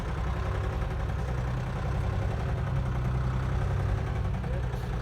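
A vehicle engine runs in low second gear at a rural site, a steady deep rumbling drone that continues unbroken and fairly loud from start to finish.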